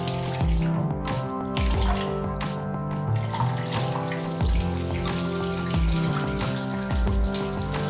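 Cheap 280-litre-per-hour water pumps push water that splashes and trickles continuously, with recurring gurgling bursts and drips, close and fairly loud.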